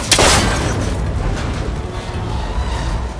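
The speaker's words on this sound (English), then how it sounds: "That connector's holding the cables together. It should break if I shoot it." A single sharp gunshot at the start, fired to break a connector holding cables together on an old rickety tower in a video game, followed by a long rumbling decay.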